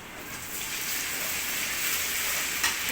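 Cooking oil sizzles in a pan while being stirred, a dense, even hiss that holds steady throughout with one small clink near the end, no voices.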